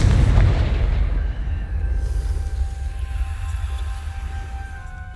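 A Confringo blasting spell explodes in Hogwarts Legacy, a loud booming burst up front with a deep rumble that rolls on and slowly fades over several seconds.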